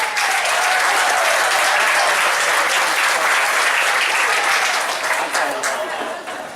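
Audience applause greeting the introduction of the mayor and CEO of the Unified Government of Wyandotte County, Kansas City, Kansas: loud, sustained clapping from a large crowd that tapers slightly toward the end.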